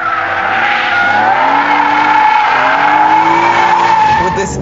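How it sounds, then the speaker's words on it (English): Tires on a BMW E46 M3 with a limited-slip differential squeal loudly and continuously as the car power-slides out of a corner, a sustained high-pitched screech with engine noise underneath. "punch the throttle, kick the tail out, and then just power slide it out of the corner"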